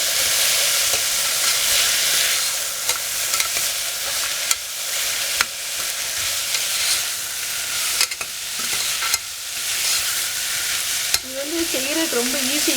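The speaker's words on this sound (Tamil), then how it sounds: "அதில் உருளைக்கிழங்கு நல்லா வதக்கிடலாம்" Potatoes sautéed in a pan for a soya bean kuzhambu give off a steady sizzle, broken by repeated clicks and scrapes of a stirring spoon, close and fairly loud, with no voices.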